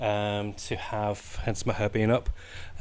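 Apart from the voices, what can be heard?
No everyday noises stand out.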